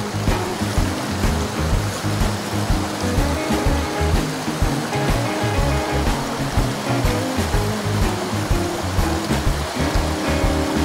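A narrow, shallow mountain headwater stream in Aizu, Japan, flowing steadily with a close, continuous rushing and gurgling wash of water, loud and unbroken throughout.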